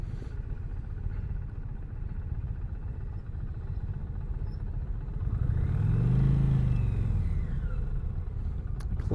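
An Indian Challenger touring motorcycle rides along on a demo ride, its engine giving a steady low rumble with one swelling pass or rev partway through, carried alone without speech.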